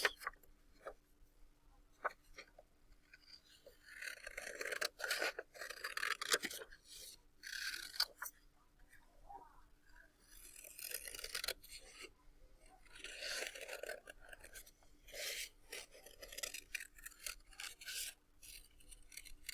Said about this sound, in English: when I have a big paper, I just like to cut off the big sections like this